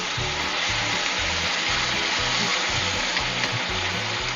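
Chopped tomatoes sauté in a pan under a constant close sizzle, with a rhythmic thud and scrape of stirring repeating about twice a second, and no speech.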